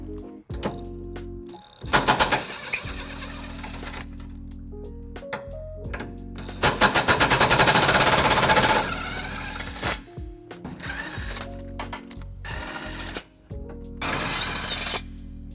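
Tow hook bolts come off the frame rails of a 2019 Nissan Titan pickup with loud bursts of rapid impact-wrench rattling and clanking, broken by quieter pauses and metallic clinks.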